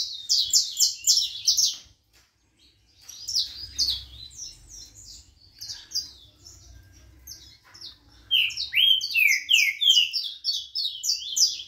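A canário da terra (saffron finch) singing in short bursts of bright, rapid chirping phrases, loud and close, with a brief pause before several longer song runs.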